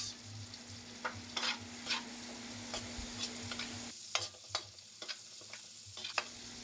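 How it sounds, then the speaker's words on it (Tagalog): Garlic and onion sautéing in a pan for ginataang kamansi with shrimp, a quiet steady sizzle broken by repeated scraping stirs from a utensil. "At maggisa na tayo ng bawang,"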